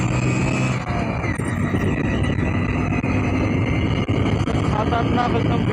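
A Hero Glamour motorcycle engine runs on a road, a loud, continuous droning rumble that stays close and steady, with wind noise and a possible voice blending in.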